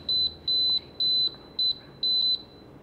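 Air fryer control panel beeping while being set to air fry and preheat at 200, five clear electronic beeps in a steady rhythm, close and alone in a quiet room.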